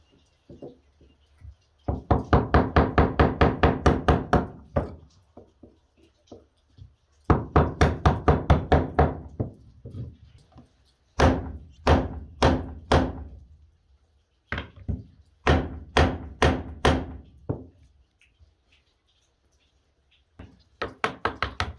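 Light tapping on the back of a credit-card-sized steel adze blade from Grim Workshop, rapid bursts of sharp knocks in clusters separated by pauses, close and loud with no talking.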